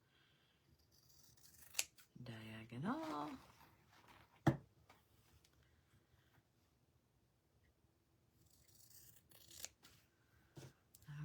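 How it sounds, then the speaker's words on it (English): Fabric scissors snip a few times in short bursts, close by, between brief stretches of speech and quiet. "Fabric scissors, and I'm going to go in"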